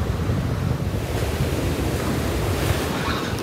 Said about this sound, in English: I'm looking for areas like this where the waves are kind of converging